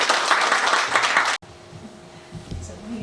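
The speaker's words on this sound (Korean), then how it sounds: "박수 부탁드립니다." An anniversary event crowd claps in brief, dense applause that cuts off sharply, followed by a quieter room with murmuring speech.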